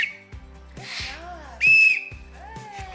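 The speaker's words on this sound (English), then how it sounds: "Hunter, blow the whistle." A child blows a toy whistle in short, shrill toots, with one longer, louder blast in the middle, heard up close among quiet background sounds.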